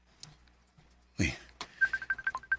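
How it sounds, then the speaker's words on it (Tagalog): An incoming call on a telephone, a short rapid series of electronic ring pulses near the end, preceded by a brief thud and faint background sounds. "ang mama ni Mitch nanawag"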